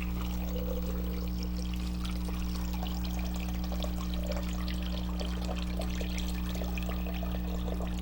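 Water pouring steadily into a container for a blended blackberry drink in a kitchen, a continuous trickling splash over a loud low hum, with no talk.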